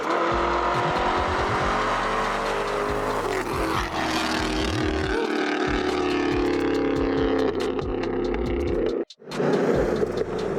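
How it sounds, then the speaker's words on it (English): Two Chevrolet Camaros drag race at a strip in Mexico, engines revving hard with rising and falling harmonic tones, loud and close, then a brief drop before the roar resumes. "looks like two Camaros about to run"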